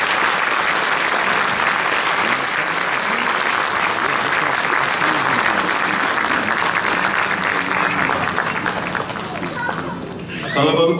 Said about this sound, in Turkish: Alkışlarınızla koromuzu huzurlarınıza alıyoruz.